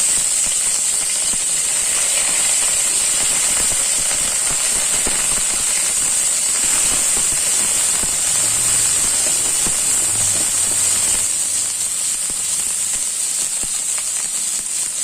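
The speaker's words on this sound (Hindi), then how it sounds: "अब हम इसमें प्याज का पेस्ट डाल लेते हैं 1 चम्मच, और लहसुन का भी पेस्ट डाल लेते हैं, अदरक लहसुन का।" Onion paste and ginger-garlic paste sizzle in a hot pan for a Chhattisgarh-style fish curry, a continuous bright hiss that stays loud and steady with no talking.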